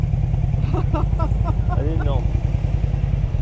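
A 125cc motorcycle with twin exhaust pipes idles steadily with a low, even engine pulse throughout, while someone speaks briefly over it.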